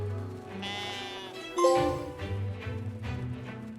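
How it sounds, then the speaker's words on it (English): Sheep bleats in a video game, a wavering high-pitched baa near the start followed by a louder, sharper bleat midway, over steady game background sounds. "Next trophy was to grab this sheep and cover it in ash."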